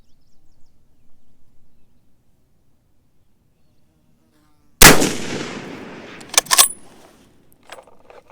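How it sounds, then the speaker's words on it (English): A single loud rifle shot from a James River Armory 1903A4 on a 300-yard range with 175-grain match ammunition. A sharp crack follows near-silence and rolls off into a long echoing tail, with a couple of small clicks after it. "I'm going to fire 3 more shots"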